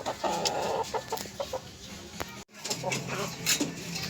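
Hens and roosters clucking and scratching inside a small backyard chicken coop, busy overlapping clucks close by with a brief pause midway and a voice faintly mixed in.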